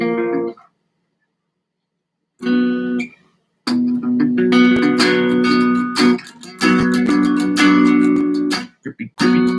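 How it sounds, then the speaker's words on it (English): Guitar strummed in chords on the bottom four strings during intermediate practice, loud and close, played in short bursts with gaps, then a longer run of repeated strums ending in a few quick hits. "Bottom 4 string chords that sound something like this right here."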